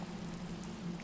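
Steady rain patters through a leaking roof inside a building in a survival horror video game, a soft continuous wash of drips with no voices.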